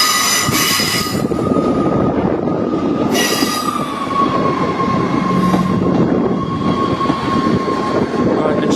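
A train pulls away from the platform at Dundee on the East Coast Main Line, bound for Edinburgh Waverley, with continuous loud rumbling, wheel and rail noise, and a sustained wheel squeal running throughout.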